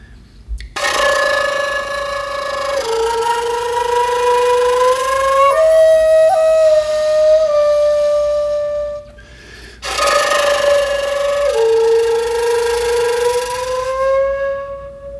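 A breathy shakuhachi bamboo flute plays sustained, wavering tones with a fluttering, trill-like texture from flutter tonguing, in two long phrases separated by a short pause.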